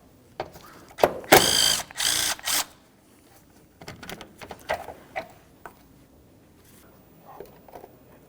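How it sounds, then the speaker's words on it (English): A ratchet works a 10mm bolt loose on a 2012-2018 Nissan Altima 2.5L near the coolant reservoir, giving a loud close burst of rapid clicking followed by scattered quieter clicks and clunks. "this does have one 10mm headed bolt down in this area. We're going to remove that"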